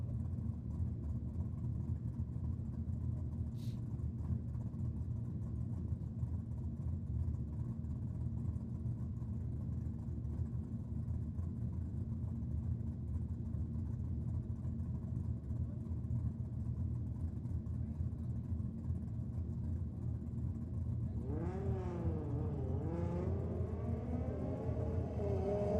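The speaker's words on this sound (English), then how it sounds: "nice V8s under the tunnel. Definitely got a very lumpy idle to it." V8 drag car engines at a Sydney drag and burnout night, a steady low lumpy idle rumbling continuously at moderate distance, with a brief engine rev rising near the end.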